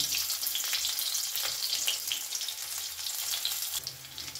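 Crushed garlic cloves and black cumin seeds fry in hot oil for a mourola fish dish, giving a close, dense crackling sizzle with quick spits and stirring scrapes that eases off slightly toward the end.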